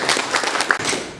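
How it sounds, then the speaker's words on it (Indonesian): A short burst of clapping from an audience at a PKB political party meeting in Papua, Indonesia, dense and steady, with a small murmur of voices underneath. "tepuk tangan untuk semuanya"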